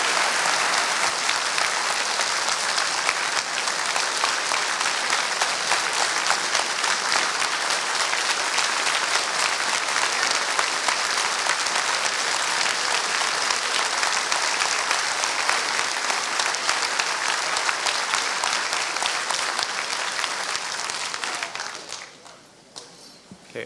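Sustained, dense audience applause fills a public planning meeting hall for about twenty seconds, steady and loud throughout, then tapers off abruptly near the end.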